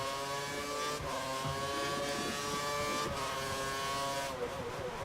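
A Formula 1 car engine in F1 2013 drones steadily at high revs with a whining, layered tone, holding nearly constant loudness throughout with only slight pitch shifts, close and continuous.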